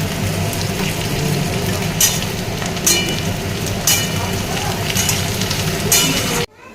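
Onions and potato pieces fry in a pan with a steady, loud sizzle, and a few sharper crackles and stirring clicks pop out before the sound cuts off abruptly at the end.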